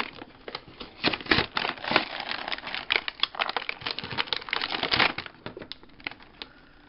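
Small scissors snip and crinkle through plastic doll packaging on a Shoppies Valentina Wild Style doll, with a close, irregular run of cuts and rustles and no talking.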